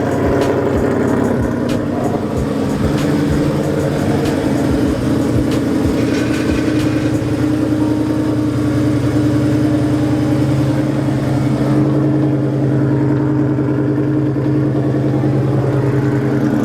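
Nitrous-equipped Ford Mustang idling on a new AeroMotive 340 lph fuel pump, a loud, steady low engine drone with a lumpy rumble holding even throughout.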